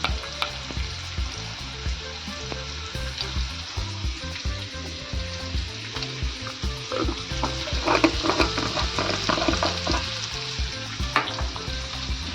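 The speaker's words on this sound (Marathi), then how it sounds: "गॅस थोडा फास्ट करते. मोहरी घालते." Mustard seeds crackle and sizzle in hot oil in a pan on a gas flame while cooking an onion-tomato bhaji. Steady close frying hiss with scattered pops and a few stirring scrapes, and no talking.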